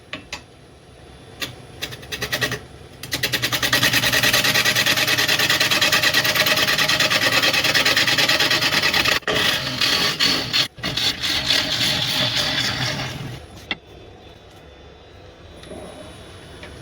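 An oak platter spinning on a wood lathe at about 500 RPM while a tool takes a cut, giving a loud, steady rasping scrape that runs for about ten seconds, briefly interrupted, then eases off to a quieter hum.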